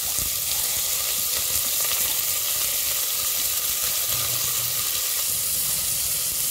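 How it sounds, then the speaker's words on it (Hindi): Chopped onions sizzle steadily in a hot pan for green peas dal, a continuous close frying hiss with occasional faint stirring and no voices. "जब तक हमारी प्याज भून रही है"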